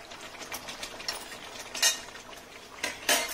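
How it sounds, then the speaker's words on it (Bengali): Fried eggs drop into a simmering egg curry in a pan, giving two brief wet clatters against a low bubbling background, close by with no talk. "এই যে ভেজে রাখা ডিমগুলো দিয়ে দিলাম।"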